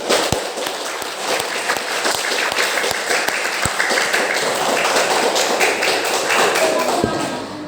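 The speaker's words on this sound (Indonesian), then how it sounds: "Bapak minta tolong kalian tepuk tangan sekencang-kencangnya untuk" Students in a classroom clapping hands loudly in a dense, energetic burst of applause with sharp individual claps, voices mixing in underneath.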